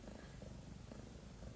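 A kitten named Hobo purrs close up, a steady low rumbling vibration running unbroken and soft throughout.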